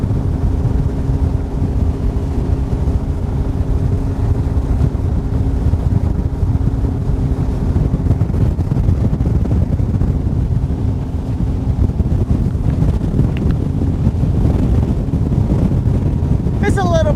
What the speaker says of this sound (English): Breezy out here in the main channel, guys. Just FYI, breezy and choppy.